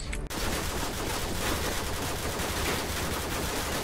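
Gunfire in Call of Duty Modern Warfare 2 Spec Ops, a dense, continuous burst of rapid automatic shots roaring loud and unbroken after a brief opening sound.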